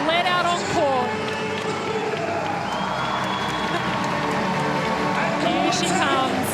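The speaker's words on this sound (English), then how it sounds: "you're going to hear the crowd because the Melbourne Vixens are going to be led out on court" Netball crowd at a Suncorp Super Netball match roaring and cheering as the Melbourne Vixens are led onto court, a loud, dense, sustained din with whistles and shouts, a commentator talking over it.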